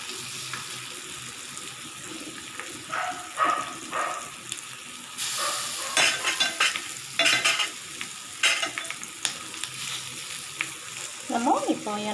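Marinated dry fish (karuvadu) laid on a hot tawa gives a steady close sizzle, broken by several louder bursts of crackling and utensil scraping, with no talking.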